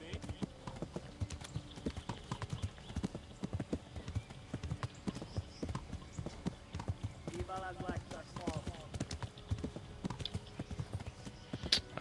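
Horse hooves clip-clop steadily at a gallop in the medieval role-playing game Kingdom Come: Deliverance II on PS5, a dense rhythmic beat with brief whinnying mixed in and in-game shouting and voices over it.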